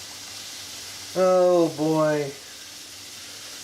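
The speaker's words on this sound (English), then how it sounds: "A boil over." A pot of Korean fire noodles boiling over on a stove gives a soft, steady hiss that sits under a brief spoken exclamation.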